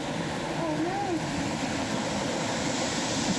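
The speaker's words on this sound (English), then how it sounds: "Wow, that must be that waterfall, eh?" Waterfall inside a flooded slate mine in North Wales, a steady broad rushing roar filling the space, with faint echoing voices nearby.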